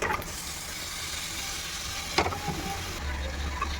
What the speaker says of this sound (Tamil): தக்காளி போட்டு நல்லா வதக்கி எடுத்துக்கோங்க